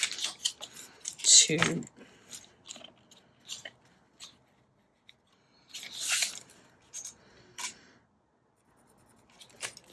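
Paper being cut for a handmade paper bag with pockets and flaps, a few short crisp snips and rustles scattered between pauses, close by, with a person talking quietly at times.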